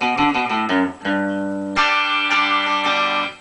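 A distorted electric guitar plays a short riff of quick notes and then lets a heavy chord ring out, loud and close, with no talking.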